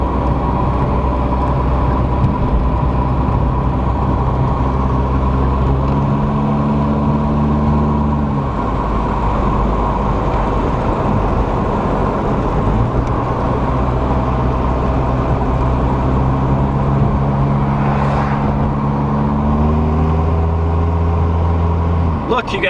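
A 1987 Volkswagen MK2 Jetta drives along with a steady engine drone and road rumble, the revs holding and shifting in long tonal bands, loud and close throughout.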